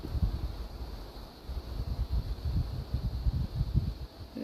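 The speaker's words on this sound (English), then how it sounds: "Getting a bit windy." Low, gusty wind rumbling and buffeting outdoors in Mt Crawford Forest near Adelaide, rising and falling in uneven surges with a faint steady hiss behind it.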